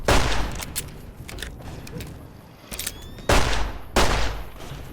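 Rapid bursts of gunfire from Fallout: New Vegas, loud and close, with scattered single shots and several heavy volleys across the stretch, no talk.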